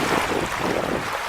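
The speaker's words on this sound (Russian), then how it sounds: "Ветер не стихает, волна тоже." Strong wind and choppy waves at a lakeside or riverside spot during feeder fishing, a loud rushing gust with the wash of water blended into a continuous roar, no speech.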